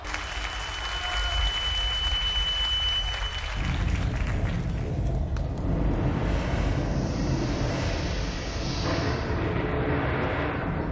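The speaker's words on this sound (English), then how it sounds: "Give this man a round of applause." Crowd applause in the samurai video game Way of the Samurai, a steady, dense wash of clapping that carries on for several seconds, full and continuous with a faint tone early on.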